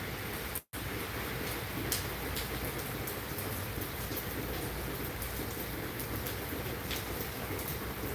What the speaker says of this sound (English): It's raining in Iowa too.